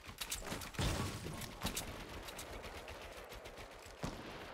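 Fortnite Battle Royale gunfire, a few sharp bursts and scattered single shots at fairly low level with quieter ambient game noise between them.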